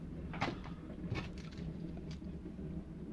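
Neighbors next door handling their trash, heard as a few muffled knocks and clattering bumps at a distance over a steady low rumble, with no talking.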